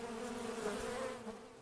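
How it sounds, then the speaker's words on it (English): Carniolan honeybees buzz in a steady, dense drone, a continuous hum from many insects close by with no voices present. "The bees that thrive here are Carniolan honeybees."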